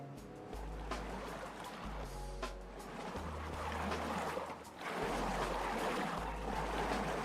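Water rushing and flowing across a diorama map in the beaver colony-building game Timberborn, a continuous wash of broadband noise over a low steady hum, with no voice.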